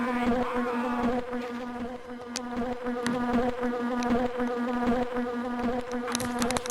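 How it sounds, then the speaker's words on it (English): Steady insect buzzing drones throughout, a continuous hum with shifting pitch, joined by sharp clicks and taps here and there. "The bees in here, of course."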